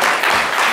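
Loud, close audience applause at a live French talk-show taping, a brief dense burst of clapping as a guest is called up to the microphone.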